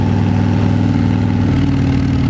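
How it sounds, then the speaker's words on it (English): A Harley-Davidson Fat Bob motorcycle engine brakes off the throttle, a loud, close, continuous low rumble and burble through its exhaust pipes, with no talking. "I love letting off the throttle and hearing this engine braking."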